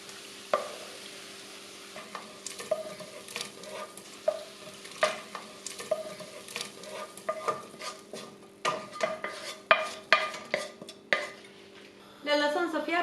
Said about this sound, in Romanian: În ea punem legumele călite puțin.